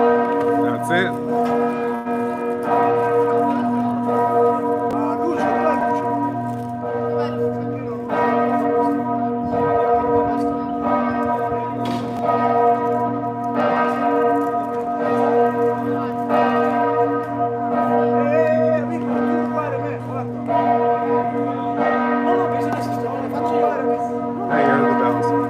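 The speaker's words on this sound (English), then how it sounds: "I hear the bells." Church bells ringing in Venice, a loud, sustained peal with overlapping strikes and long ringing tones that fill the air continuously for the whole stretch.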